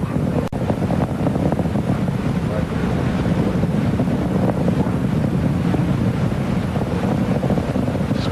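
The rocket launching the Cassini spacecraft roars through its ascent at maximum dynamic pressure. A loud, continuous, broadband rumble holds steady for the whole stretch, unbroken and dense.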